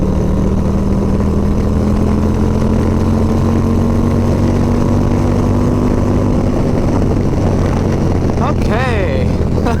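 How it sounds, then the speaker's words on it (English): A 2023 Harley-Davidson Road Glide ST motorcycle fitted with the 131 kit, a heavy 850-pound bike, rides under a loud, steady engine drone with a slowly rising tone and wind rush, and a brief whine toward the end. "Yeah, this bike can get up to 100 in third gear, no problem."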